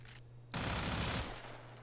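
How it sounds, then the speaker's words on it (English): Kuva Kraken alternate fire in the video game Warframe: a loud, dense burst of gunfire lasting under a second, standing alone over a steady low in-game hum before fading back to ambient noise. "It shoots a 3-round burst instead of a 2-round burst, and has this alt fire."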